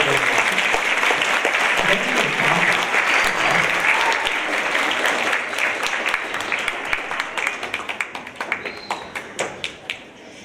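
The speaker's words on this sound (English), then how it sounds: "Let's give Sam another round of applause." Middle school students applaud a guest speaker in a school gathering: dense clapping that gradually thins out into scattered individual claps toward the end, with some voices mixed in.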